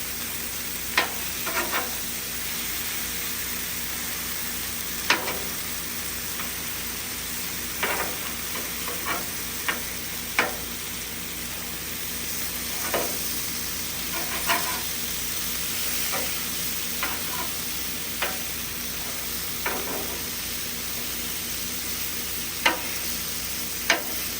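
Ground beef patties frying on a hot griddle give a steady, even sizzle throughout, broken by occasional sharp ticks and scrapes of a spatula.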